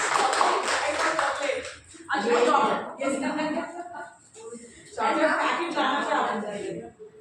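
Seminar attendees clap for a school's 100% results, a short burst of scattered hand claps at the start, followed by someone talking in bursts with lighter clapping mixed underneath.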